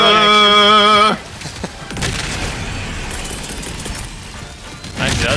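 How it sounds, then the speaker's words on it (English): Explosive airburst strikes in the shooter game Helldivers 2: a tonal burst gives way to a heavy boom, then scattered blasts and crackling debris, with another loud hit near the end. "I'm throwing an airburst right there."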